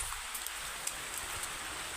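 Rain begins falling outdoors beneath a mahua tree, a steady soft hiss of drops on leaves and ground with a few brighter taps, continuous and unbroken, with no voices.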